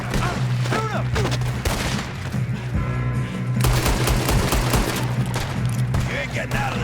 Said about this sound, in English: There's some shooters up top! Damn, he's got an arm! Who is this guy? Doing good, kid. Where the hell are the others? I don't know. Shoot him! Shoot him!